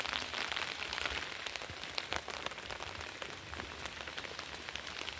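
Rain and wind sweep over potted garden flowers, a dense steady patter of drops with scattered sharper hits, close and continuous throughout.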